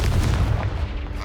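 A loud Confringo explosive spell blast from the Hogwarts Legacy video game, a dense booming burst that fills the whole moment and stays heavy through to the end.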